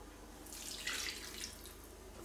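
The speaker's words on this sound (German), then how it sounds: "Und dann können wir schon auch Wasser gleich geben. Am besten gleich heißes Wasser." Hot water is poured into a pot of rice for a one-pot zucchini lunch dish, a steady splashing pour lasting about two seconds, close and fairly quiet.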